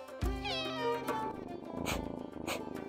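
A cat meows loudly and close, with one long drawn-out cry followed by two shorter meows, alone with no talking.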